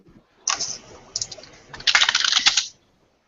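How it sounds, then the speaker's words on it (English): Bursts of rapid keyboard typing, close and crisp, with a short pause between a brief run and a longer flurry of keystrokes. "That's him typing"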